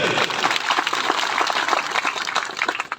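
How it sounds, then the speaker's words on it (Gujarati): An audience at a gathering claps enthusiastically, dense steady applause close by for a few seconds before tapering slightly. "આપણે જોરદાર તાળીઓથી વધાવીએ"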